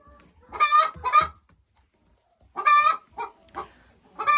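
Nearby hens in a coop give a run of loud, harsh clucks and squawks, two short bursts then a longer cluster after a quiet gap.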